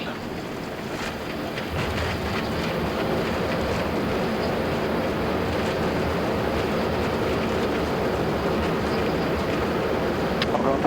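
An Airbus A330-300 rolls out after landing with reverse thrust. A steady, loud broadband roar of rushing air and engine noise fills the cockpit and barely changes throughout.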